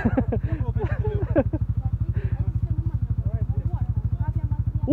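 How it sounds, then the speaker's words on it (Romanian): A moped engine struggling to run, its rapid uneven putter steady and close throughout while people talk over it. "nici motoreta nu mai vrea"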